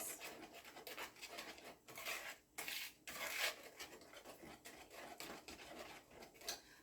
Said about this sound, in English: this whisk is working, helping my muscles to stay strong too